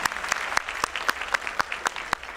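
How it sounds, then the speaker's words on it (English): Audience applause at a Diwali community celebration: sparse, spaced claps with sharp individual hand strikes standing out over a low murmur, moderately near and fairly quiet. "give yourself a very, very big round of applause"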